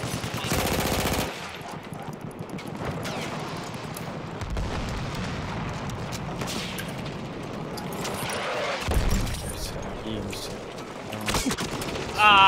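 Machine gun fire in the video game Battlefield 1, rapid bursts of gunfire and explosions running throughout, with people talking over the battle.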